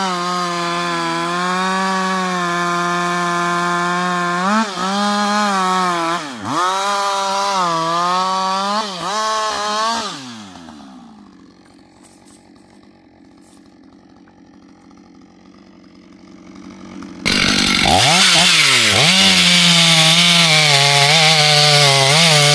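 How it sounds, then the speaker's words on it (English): A chainsaw cuts a tree in a snowy forest, worked by a skilled operator. The engine roars loud and close with revving pitch dips, fades to a low distant murmur midway, then surges back at full throttle. "The sharp chainsaw growls in the hands of a skilled worker."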